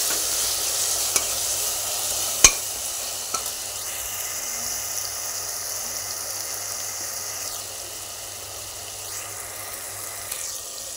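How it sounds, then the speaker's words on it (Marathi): A ground paste of green chili, coriander and mint fries in a pan, a continuous close sizzle broken by a few spoon taps and soft stirring scrapes. "आणि हे सर्व एकत्र आता छान मसाला भाजून घ्यायचा।"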